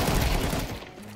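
A gunshot in an action video game, one loud burst that rings out and decays over about a second, heard alone without talk.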